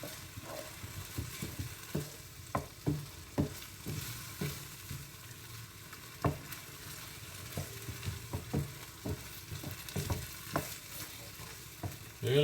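Scrapper stroganoff frying in a pan while being stirred, soft steady sizzling broken by repeated scraping strokes of a utensil, close and moderately quiet.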